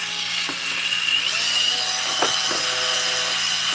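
A football-shaped burr bevels the port of a 394xp chainsaw engine, producing a continuous high-pitched grinding whine with a few brief scraping bursts as the bit meets the metal, close and steady.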